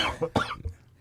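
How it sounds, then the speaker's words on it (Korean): A person coughs a few short, harsh times close up, the bursts quickly fading to quiet. "네, 다시 기침해."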